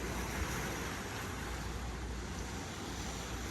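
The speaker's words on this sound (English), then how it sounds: "I'll be quiet for a second so you can just hear the ocean." Ocean waves wash steadily at a beach resort in Las Americas as a continuous broadband surf roar with some wind buffeting the microphone, moderately loud and with no talking.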